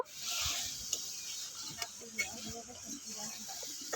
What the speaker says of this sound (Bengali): এবার মশলাটাকে বেশ ভালো করে কষিয়ে নেব